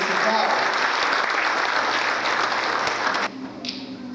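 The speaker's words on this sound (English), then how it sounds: "Can I get clapping for that?" An audience at a church worship gathering claps together, loud and dense for about three seconds before the applause drops away abruptly into a quieter room.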